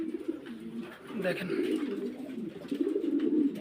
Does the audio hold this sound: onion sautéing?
no